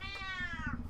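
A person imitates a cat with a single drawn-out, falling meow, loud and close, over a low background murmur.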